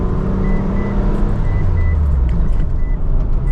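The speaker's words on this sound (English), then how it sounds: "See that loud car?" A loud car passes close by on a city street, its engine roar steady and dominant throughout, with traffic noise around it and no talking.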